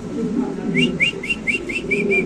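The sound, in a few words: white Mundian pigeons cooing in a loft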